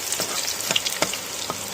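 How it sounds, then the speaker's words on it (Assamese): Garlic sizzles and crackles in hot oil, with a constant frying hiss broken by several sharp little pops. "নহৰুটো অলপ ভাজি লওঁ"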